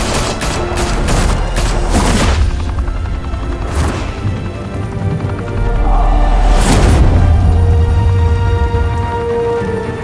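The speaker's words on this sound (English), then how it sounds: "Open fire!" Shootout in the Batman Telltale game: loud bursts of rapid gunfire and fusillades ring out close, with sharp cracks and heavy booms over a rumbling low background.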